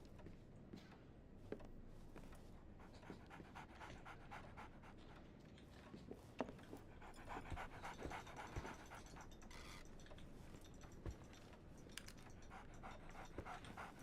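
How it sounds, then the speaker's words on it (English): A dog in the video game Sherlock Holmes: The Awakened pants steadily and rhythmically for several seconds, quick close breaths with a faint whimper and some mechanical clicks in the background, no speech. "So, Barnes has a dog now. Who's a good boy?"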